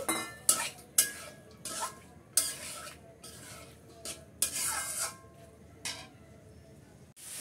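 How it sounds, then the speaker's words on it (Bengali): A spoon repeatedly scrapes and stirs cubed potatoes and lentils with spices in a pan. The strokes come as quiet, irregular clinks and rubs, with only a faint hint of sizzling. "আলু দুটো এর সাথে আমি কষিয়ে নেব।"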